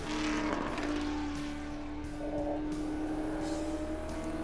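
A Ford GT40 race car with a 427 Ford V8 drives around the Watkins Glen track, a steady, fairly muffled engine drone heard from inside with a sustained tonal hum and a slight shift in pitch partway through.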